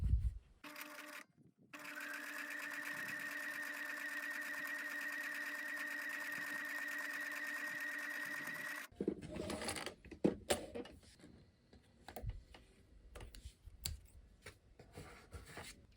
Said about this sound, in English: This fabric is a bit bulky now because I'm sewing through 3 layers